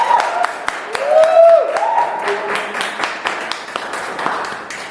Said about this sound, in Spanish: sí me ayudan a recibir con un fuerte aplauso a Iván Librado